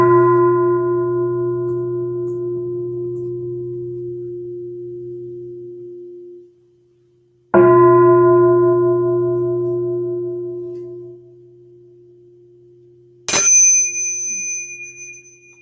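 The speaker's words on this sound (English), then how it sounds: "maybe we'll just hear a couple of bells to take us out" Two meditation bells ring to close a livestream, each struck once and left to ring out slowly and clearly in silence, followed by a brief, higher, brighter chime.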